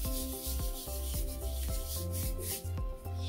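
A hand rubs firmly back and forth over folded paper to press a squish paint print, making quick rhythmic scrubbing strokes, close and fairly loud, with a steady electrical hum beneath and no talking.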